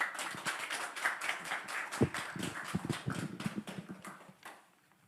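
An audience at a theology seminar lecture claps to welcome the presenter, a brisk, fairly even round of many hands lasting several seconds before tapering off and fading at the end.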